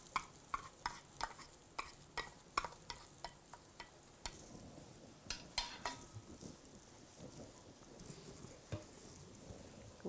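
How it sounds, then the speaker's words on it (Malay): Thai sauce with ground chili stirred in a pan, a spoon scraping and tapping in an uneven rhythm over a faint sizzle, fairly quiet and close, no talking. "Sos Thai digaul bersama"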